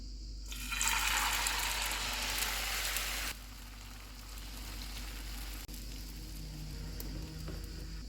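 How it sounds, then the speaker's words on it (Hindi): Egg mixture hits hot ghee on an iron tawa with a sudden loud sizzle that holds for a few seconds, then drops to a quieter, steady frying hiss over a low hum. "तवे पे थोड़ा सा घी डालेंगे। इस पे अंडे वाला मिक्सचर डालेंगे।"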